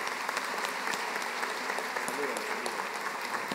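Audience applause welcoming the Minister of Education at an education congress panel, a steady wash of clapping from a crowd filling the room, moderately loud and continuous throughout.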